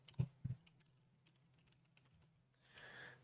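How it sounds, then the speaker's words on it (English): A computer keyboard key is pressed, giving two quick, sharp clicks close together near the start, then quiet room hiss and a soft rustle toward the end. "Let's press minus on keyboard or just the first icon here."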